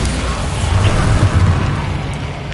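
Bombarda spell detonating in the Hogwarts Legacy video game, a loud, low rumbling blast that swells and rolls for a couple of seconds before fading, close and heavy.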